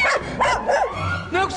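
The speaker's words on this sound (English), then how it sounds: "Bad dog." In an animated Tintin film scene, a dog gives several quick, loud, high barks and yips close by, mixed with talk and other scene sounds.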